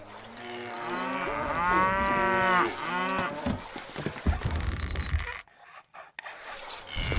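Cows lowing in the medieval castle-building strategy game Stronghold HD, where the herd is struck by a strange disease: several drawn-out, wavering moos close up, then scraping and clattering sounds before a brief silence.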